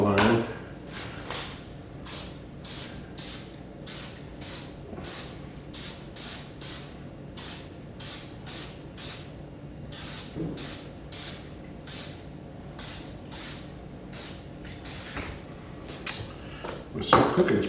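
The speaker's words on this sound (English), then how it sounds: "With some cooking spray." Cooking spray hisses onto a hot waffle iron in a long series of short, regular bursts, each a bright airy spritz with brief gaps between, fairly close and steady over a low background hum.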